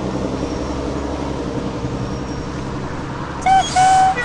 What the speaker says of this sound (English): School bus has arrived!